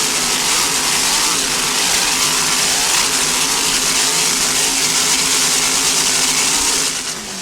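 Racing powerboat engines from the Bandit Racing team roar at the Key West World Championships, a loud, dense, continuous throttled drone with steady tonal harmonics, close and unbroken, easing slightly at the very end.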